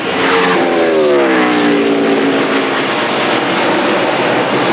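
Busch Series stock cars race hard at Dover, with a loud, sustained engine roar that sweeps past in a clear Doppler pitch drop as two cars battle side by side close by.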